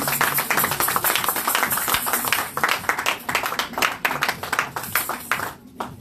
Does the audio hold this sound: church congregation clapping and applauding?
yes